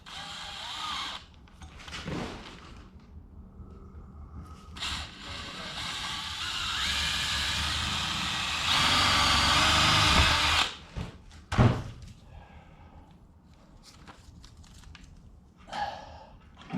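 A power drill whines for several seconds, boring a 1/8-inch hole, its pitch rising as it bores, followed by clunks and handling noises.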